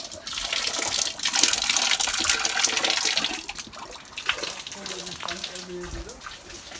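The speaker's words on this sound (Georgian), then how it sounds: "ეს წყალი კრანი არა აქვს სულ მოდის." Water pours constantly from a tapless outlet in a kitchen area at the Zedazeni site in Georgia, a steady broad rushing that runs throughout and eases slightly in the second half, with faint other sounds mixed in.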